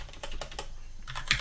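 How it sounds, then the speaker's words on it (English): Keystrokes on a computer keyboard while typing notes for a math lesson, a quick run of close, crisp taps in uneven bursts with no talking. "And then I'm going to type in the directions"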